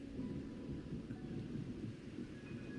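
Steady, heavy rain in the video game Wuthering Waves with a low rumble of thunder running underneath, continuous and loud with no voices.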